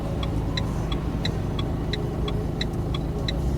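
A car pulls away during a driving lesson, its engine humming steadily up close while a regular ticking, like an indicator, repeats about every third of a second.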